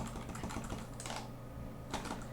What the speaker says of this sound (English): I'm sorry about the tapping of my keyboard, of my controller